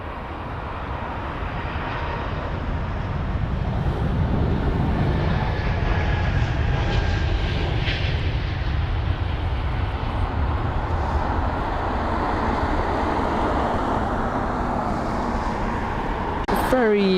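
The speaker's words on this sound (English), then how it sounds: "This is going to be off to Zurich, the A220-300 with the flight number LX333." An Airbus A220-300 jet departing London Heathrow for Zurich, a broad, sustained engine roar that swells and holds at a steady loud level, with a brief sharp noise burst near the end.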